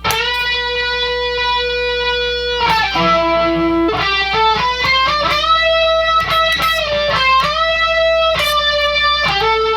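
A distorted electric guitar plays a sustained solo lick with string bends, hammer-ons and quick runs, loud and alone over a steady backing hum.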